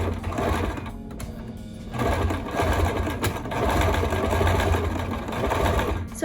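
A sewing machine stitches fabric for a scrunchie, running in a steady, loud, close mechanical whir with brief slowdowns and restarts, without talk.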